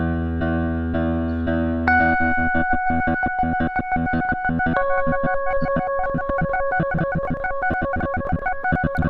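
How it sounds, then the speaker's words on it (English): Electric guitar runs through a slaved stereo pair of Echoplex Digital Pro loopers under MIDI control, with ToneLab reverb, sounding loud and continuous as sustained notes build into a layered, repeating echoed pattern with no talking. "Now there's a little bit more reverb from the ToneLab than I would normally use."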